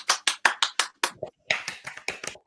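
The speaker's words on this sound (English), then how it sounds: "Is it a Mexican clap?" A small group claps in a quick, uneven Mexican clap rhythm, a string of sharp, close handclaps with a short pause midway before the claps resume.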